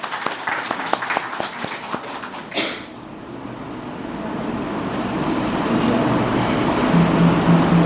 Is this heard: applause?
yes